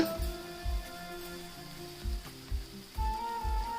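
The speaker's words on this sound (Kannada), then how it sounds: "ಇವಾಗ ಇಲ್ಲಿ ಟೊಮೆಟೊ ಎಲ್ಲ ಚೆನ್ನಾಗಿ ಮ ಫ್ರೈ ಆಗಿದೆ" Tomatoes frying in a pan for mushroom masala, a steady soft sizzle running throughout with a few low knocks and stirring thumps, close and moderately quiet, no voices.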